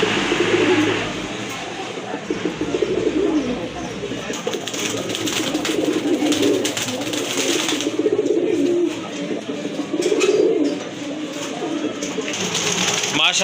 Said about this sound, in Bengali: এখানে কিন্তু আরেক জোড়া কবুতর দেখতে পাচ্ছেন যদিও দুইটা দুই ব্রিডের